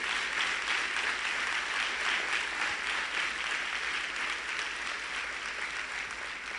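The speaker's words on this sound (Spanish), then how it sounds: "Denle un aplauso al Señor." A church congregation claps loudly and steadily for several seconds, a dense, even wash of applause filling the room without pause.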